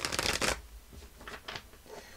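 Tarot cards riffle and flick in quick bursts, a loud shuffle at first, then softer intermittent shuffling close by.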